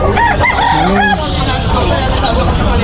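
A rooster crows nearby amid clucking chickens at a pet market in Malabon, with a busy background of crowd chatter and market noise.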